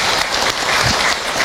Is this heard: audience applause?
yes